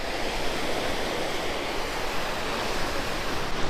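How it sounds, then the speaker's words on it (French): Ocean waves along the seaside on Réunion Island, a steady broad wash of surf with constant hiss and low rumble, sustained and fairly loud with no distinct breaks and no voices. "On a de belles vagues."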